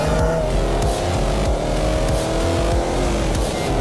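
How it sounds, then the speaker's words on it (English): The engine of a 2022 Subaru WRX with all-wheel drive pulls hard out of a corner, a loud, close, continuous growl with shifting revs and drivetrain rumble. "Just feeling how hard this all-wheel drive pulls this car out the corners"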